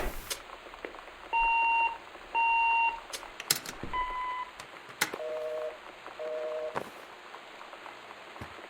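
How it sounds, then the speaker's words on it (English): Telephone beeping on a dead line in the video game Gone Home: two long, steady tones followed by shorter beeps of different pitch, clear and close over a background of rain. "Phone lines are out."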